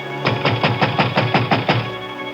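Repeated pounding on heavy doors in an old-time radio drama, about eight loud, evenly spaced thuds in a steady rhythm, heard close with no voices over them.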